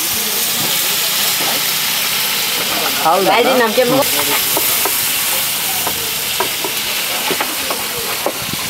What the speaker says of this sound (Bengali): এখানে আছে কাঁকড়া, চিংড়ি, তারপরে রূপচাঁদা ফ্রাই হচ্ছে একসাথে।